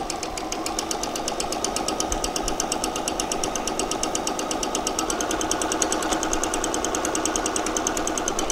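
A sewing machine running steadily while stitching a seam on a pair of shorts, rapid even mechanical clatter throughout, close and continuous with no talking.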